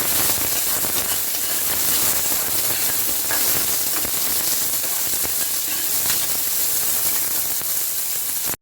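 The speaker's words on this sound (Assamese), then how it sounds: "পিয়াজখিনি মই অকণমান সফ্ট হোৱালৈকে ভাজি ললো" Sliced onions fry in a pan for duck curry with ash gourd, giving off a steady, close sizzle and hiss. Faint clicks and pops run through it, with no talking.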